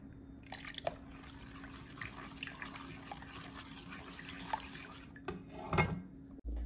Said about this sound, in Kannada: ಈಗ ಇದನ್ನು ಚೆನ್ನಾಗಿ ಮಿಕ್ಸ್ ಮಾಡೋಣ.